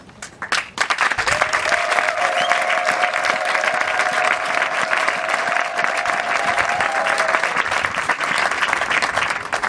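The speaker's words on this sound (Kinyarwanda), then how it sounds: "tubahe amashyi n'impundu kubwo kutugeza kuri uyu munsi" Wedding guests at a gospel church ceremony in Nairobi give a sustained burst of loud, dense applause for the couple's parents, and a faint voice or tone lingers underneath.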